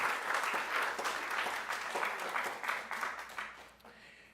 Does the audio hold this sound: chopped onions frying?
no